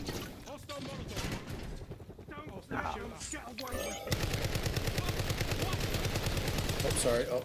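Rapid bursts of automatic gunfire from a Call of Duty Black Ops 6 multiplayer match, loud and continuous through the second half, with game voice chatter and effects mixed in.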